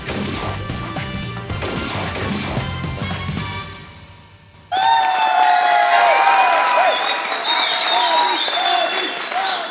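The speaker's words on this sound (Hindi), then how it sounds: "तालियां।" Studio audience at a Pakistani TV comedy show about the Asia Cup bursts into loud applause and cheering after a dip, with music playing over and under the clapping and talk around it.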